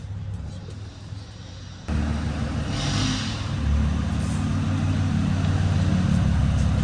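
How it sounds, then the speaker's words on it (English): Diesel engine of an overbuilt Jeep Gladiator expedition vehicle carrying an AT Habitat camper, idling with a low steady rumble that jumps in loudness as it starts or is revved, then holds a constant drone. "Sounds like a diesel."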